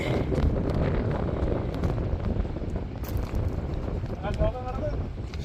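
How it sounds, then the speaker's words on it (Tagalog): Strong wind roars and buffets the microphone at a fishing spot by the Los Baños aqueduct, a loud, continuous, rough rush throughout. "Lakas lang ng hangin."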